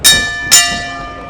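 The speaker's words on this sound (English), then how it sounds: "Ring the bell!" A wrestling ring bell at a Southern States Pro show rings twice in quick succession, loud and close, each clang leaving a long metallic ring that fades over low crowd noise.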